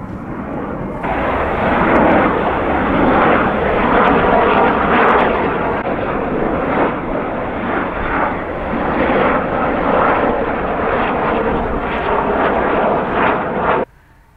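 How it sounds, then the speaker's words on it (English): An aircraft roaring overhead at the RIAT Fairford airshow, a loud, broad, continuous jet roar holding steady for over ten seconds before cutting off abruptly. "every time a plane comes across, I'll keep stopping."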